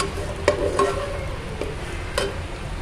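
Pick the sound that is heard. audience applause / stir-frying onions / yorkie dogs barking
stir-frying onions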